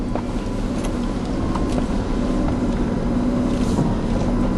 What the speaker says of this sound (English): I'm in first gear, low range. Just take it nice and slowly.